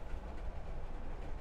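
Train passing in the horror video game Layers of Fear, a heavy rumbling roll with rattling low end, steady and fairly loud throughout the short stretch.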